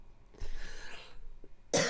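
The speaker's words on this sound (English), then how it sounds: "You knew you were going to cough." A single person coughs indoors, one short, sharp, close burst near the end after a brief breathy rustle, with no talking.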